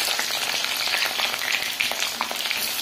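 Onions fry in hot oil for a home-cooked chicken rice dish, a dense, even crackling sizzle that stays loud and close throughout, with no voices.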